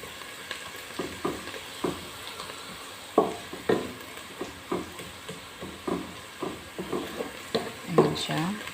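Onion and garlic fry in a pan until browning for an Arabic kabuli pilao, with a soft sizzle punctuated by repeated scraping and stirring clatters of a utensil against the pan, fairly quiet and close.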